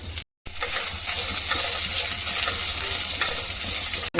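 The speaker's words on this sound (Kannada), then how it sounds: "ಇವಾಗ ಒಂದು ಅರ್ಧ ಟೇಬಲ್ ಸ್ಪೂನ್ ಅಷ್ಟು ಎಣ್ಣೆ ಬಿಟ್ಟು ಚೆನ್ನಾಗಿ ಇದನ್ನು ಆಯಿಲ್ನಲ್ಲಿ ಫ್ರೈ ಮಾಡ್ಕೊಳ್ಳೋಣ." Onion, ginger and spices fry in a little oil while being stirred. A loud, continuous sizzle runs throughout with frequent spatula scrapes and a brief break near the start.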